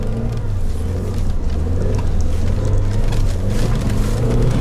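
An off-road car's engine drones loud and sustained at full throttle while pushing through deep snow, a heavy low rumble that holds steady and swells slightly toward the end.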